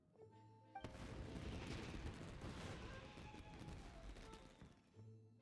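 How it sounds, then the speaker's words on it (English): Fireworks bursting in the Genshin Impact game, a dense, loud volley of rapid crackling explosions that starts abruptly and rolls on for several seconds before cutting off, with no talk over it. "this is turning into a bit of a fireworks display"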